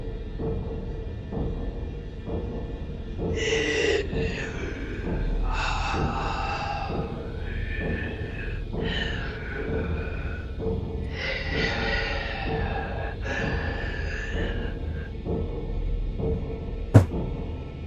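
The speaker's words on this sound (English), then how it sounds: "That was a very awkward wheezing" Awkward wheezing, gasping breaths voiced as a sound effect in a game scene, a run of strained, rasping inhales and exhales in irregular bursts, close and fairly steady in level, ending with a brief sharp click.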